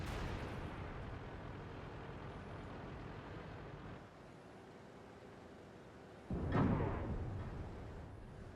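Tank cannon fire in the World of Tanks video game during a heavy-tank fight against a Maus: a loud, steady mechanical rumble runs throughout, then one sharp, heavy cannon boom bursts out near the end and rolls off slowly, with no talking.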